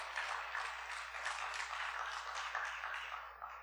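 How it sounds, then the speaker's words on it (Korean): Church congregation clapping together during a Sunday service, a steady dense patter of many hands sustained throughout at moderate volume, with no talking over it. "여러분들 박수 한번 쳐봐요."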